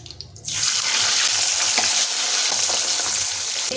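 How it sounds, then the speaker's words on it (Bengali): Pabda fish goes into hot oil after a brief quiet moment, and a loud, close sizzle bursts up and holds steady with occasional crackling pops. No voices are heard. "এই তেলে বাকি মাছগুলো ভেজে নিচ্ছি।"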